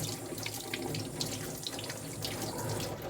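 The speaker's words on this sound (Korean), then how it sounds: "저는 물로 씻어냅니다." Hands are rinsed under a running kitchen tap, with water gushing steadily and splashing into the sink at close range, a continuous even rush throughout.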